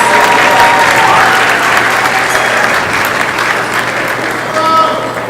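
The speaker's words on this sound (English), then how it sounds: "Please give them a big round of applause." An audience at a Nowruz celebration gives a big round of applause, a loud, dense, sustained clapping that holds steady and only eases slightly at the end, with a voice faintly audible underneath.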